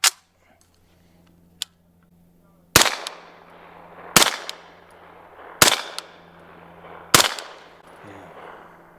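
Four sharp, loud reports from a suppressed Sig Rattler rifle firing subsonic ammunition, spaced about a second and a half apart, each followed by a short ringing decay, with a fainter earlier pop and click before them.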